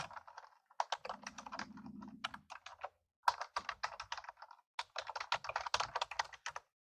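Quick bursts of keystrokes clatter on a computer keyboard, close and fairly quiet, in uneven runs with short pauses and a brief low hum underneath.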